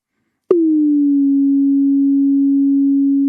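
A single Nambu synth tone strikes sharply, its envelope falling quickly at first and then settling into a slow, steady decay that holds for about three seconds, alone and clear.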